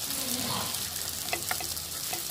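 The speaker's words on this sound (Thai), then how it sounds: "เอาไปลงทอดให้มันเหลืองนะคะ" Firm tofu fries in hot oil until golden, giving a close, steady hiss and crackle with a few brief stirring scrapes and pops partway through.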